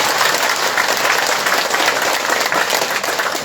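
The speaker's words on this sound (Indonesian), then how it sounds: "mohon tepuk tangan" A crowd applauds at a regent's handover of regional grant funds to villagers in Banjar Tengah, Bali. The clapping is loud, dense and continuous from start to finish, with no voices heard over it.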